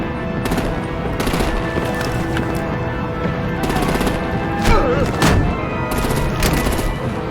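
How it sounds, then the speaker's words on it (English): Rapid gunfire and explosive bursts from a battle in the Batman: The Enemy Within video game, steady dense shooting with a louder blast near the middle, faint voices mixed under the din. "Break out the artillery and disable their vehicles!"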